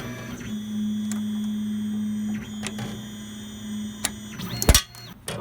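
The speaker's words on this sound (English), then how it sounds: "I'm just going to rerun it. It's probably just going to tap through the same threads" A Tormach CNC mill taps threads with a tension compression tapping head, giving a steady mechanical whir with a few brief clicks and a sharp burst near the end.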